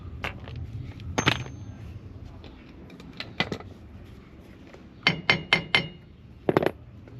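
Metal strikes on the big hub nut of a Ford Transit Custom van, sharp clanging blows in scattered single hits and a quick run of four, heard close over a quiet workshop background.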